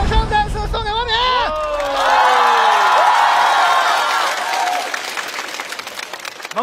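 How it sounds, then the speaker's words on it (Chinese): Studio audience at the stand-up comedy competition Rock & Roast season 4 bursting into loud, sustained applause and cheering, with whoops and rising shouts at the start before the clapping thins out, and voices heard through it. "掌声再次送给王冕"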